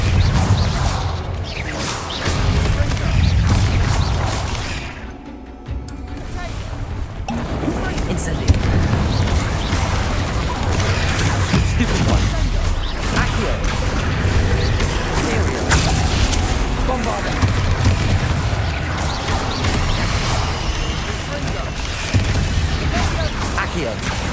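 Accio, Incendio and Bombarda spells cast in Hogwarts Legacy: a dense, continuous wash of magical whooshes, crackling bursts and booming impacts fills the stretch, with a brief dip and a short near-silent gap partway through.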